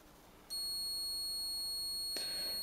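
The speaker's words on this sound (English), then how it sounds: "As we can see, we get a beep, so we do have continuity between there." Multimeter continuity test beep while probing coil pins on a PS4 board, a single steady high-pitched tone that switches on abruptly and holds, close and clear, with a brief click partway through.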